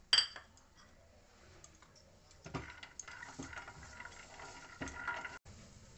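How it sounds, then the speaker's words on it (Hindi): Dates, almonds and raisins dry-roasting in a pan, a stirring spoon scraping and clicking against the metal in irregular bursts, with sharper knocks now and then over a quiet background. "थोड़ी सी मैंने खजूर ली है, इसे भी मैं भून लूँगी बादाम के साथ।"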